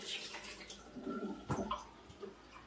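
Water is poured into a glass jar while preparing water kefir, a quiet, uneven splashing and gurgling in short bursts with a louder slosh near the middle, close but faint.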